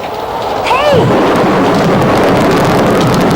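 A loud thunderstorm with heavy steady rain and gusting wind, a rumbling roar filling the scene throughout, with a short whistling whoosh near the start.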